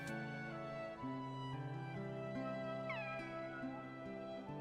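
Several cat meows from Kingdom Hearts 2, clear and tonal, over soft background music; one rising call stands out near the middle.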